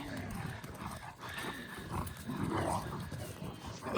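Two athletic mastiff hybrid dogs playing together, with scuffling movement, panting and footfalls sounding close and fairly loud throughout, with no talk.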